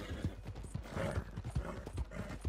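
Rhythmic hoofbeats of a galloping horse in Red Dead Redemption 2, steady clip-clop thuds repeating quickly over a mechanical background.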